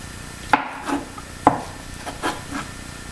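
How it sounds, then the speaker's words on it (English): A knife cutting through skin-on potatoes from a home garden on a board, two sharp close chops followed by softer slicing strokes, no talking. "So I'm gonna cut my potatoes."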